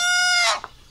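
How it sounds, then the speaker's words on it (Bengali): A desi hen lets out a loud, shrill squawk as she is being caught in a household yard, then quickly trails off into quiet. "দেখেন মা মুরগি আটকাইছে খোপ দিয়া, ধরতে আছে"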